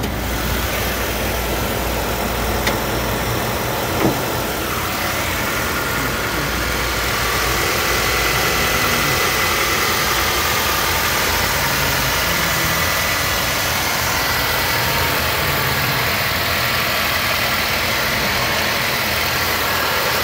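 A 2007 Honda Element SC engine idles steadily with its hood open, a continuous mid-low engine hum that holds level throughout, with a couple of faint clicks early on and no talking.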